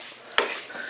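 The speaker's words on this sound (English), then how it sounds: "So now I'm just stirring it in" A vegetable mixture being stirred in a pan, with a single sharp scrape of utensil against metal near the middle, over a steady low sizzle that continues to the end.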